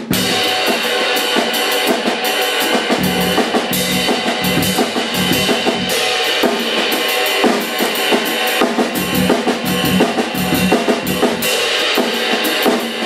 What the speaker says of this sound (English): So if we were to put the bass drum with the right hand on the cymbal out of those doubles,